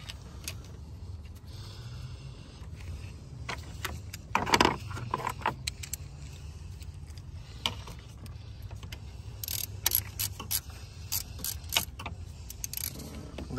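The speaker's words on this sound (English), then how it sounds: "Once you put the bolt, use number 8 socket and just tighten it" Socket wrench turning a bolt on the left return water pump line of a Mercedes M157 bi-turbo ML63, soft metallic ratchet clicks and tool clatter, close and quiet, in scattered bursts.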